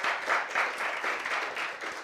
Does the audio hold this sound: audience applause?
yes